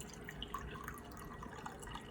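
Tap water used to soak tomatoes is poured out into a sink, heard as a faint, steady trickle with scattered small drips and splashes, no voices.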